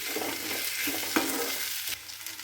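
An okra and potato fry seasoned with garam masala sizzles softly in a pan while being stirred, a steady low hiss with a few scraping taps of the spoon.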